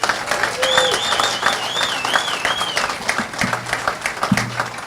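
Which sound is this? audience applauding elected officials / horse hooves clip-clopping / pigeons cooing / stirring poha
audience applauding elected officials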